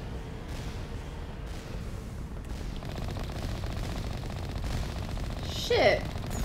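Enemy gunfire in the Mass Effect 1 video game forms a steady, muffled rattle of shots throughout, with a louder burst near the end.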